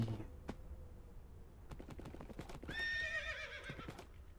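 A horse in a fantasy sandbox video game clip-clops with steady, fairly close hoofbeats, then lets out a loud, drawn-out whinny that rings over the hooves toward the end.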